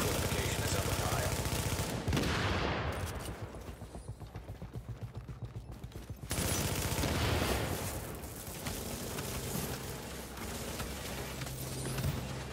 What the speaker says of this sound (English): A friendly fortification is under fire.